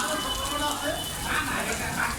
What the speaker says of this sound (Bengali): রাজধানী ঢাকায় বেশ বৃষ্টি